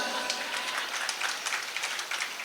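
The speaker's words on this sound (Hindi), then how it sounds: "उनके लिए तुम ताली बजा रहे हो।" An audience claps during a religious discourse: a soft, crackling spatter of hands that holds steady for a couple of seconds, moderately distant.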